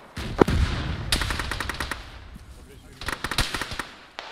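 Close-range gunfire in a firefight, with rapid automatic bursts crackling sharply near the listener, pausing briefly, then another clustered volley; a voice talks over the opening shots.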